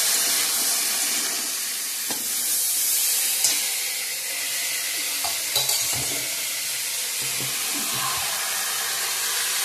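Eggs sizzle and fry in a pan for a Bengali home-cooked lunch, a steady close hissing crackle with a few faint clinks and stirring noises.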